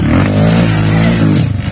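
A dirt bike revs hard on a mountain trail in Serra da Canastra, its loud, close engine note holding high and steady before dropping off into a choppier, sputtering idle near the end.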